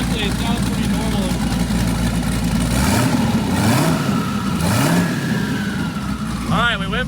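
A brand-new twin turbo LS engine revs at low RPM under light load, a close, steady low rumble that swells in a few rising pulls, with a thin whine climbing near the end and faint voices underneath.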